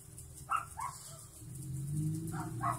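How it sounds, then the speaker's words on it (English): A dog tied on a short leash yelping, a few short high yelps near the start and end of the clip, moderately close over a low background hum. "Why's my dog yelping?"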